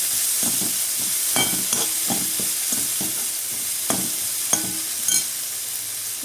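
Finely chopped spring onions fry in a pan for baby corn manchurian fried rice, a constant hiss under repeated clattering stirs of a spoon against the pan, close and fairly loud.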